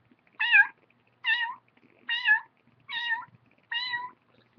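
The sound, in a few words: turkey mew call imitated with mouth diaphragm call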